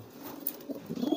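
A pigeon gives a soft, brief coo, quiet and close, in a short burst of bird sound.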